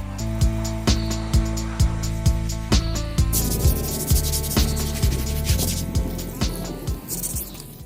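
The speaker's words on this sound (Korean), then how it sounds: "이제 나머지 주변 부위를 다듬어 주기만 하면 됩니다" A carved surface is trimmed and sanded by hand in repeated, evenly spaced rubbing strokes, close and fairly loud, with a steady rhythm running throughout over background music.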